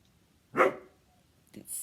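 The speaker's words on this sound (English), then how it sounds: "The really manly bark is actually Sadie the poodle." A poodle gives a single deep, gruff bark close by, followed a second later by a shorter, softer yip against a quiet room.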